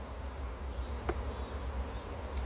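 Honey bees buzz around an opened hive while honey is being pulled, a steady close droning hum that holds alone without pause.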